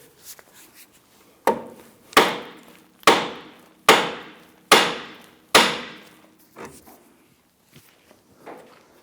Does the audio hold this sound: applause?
no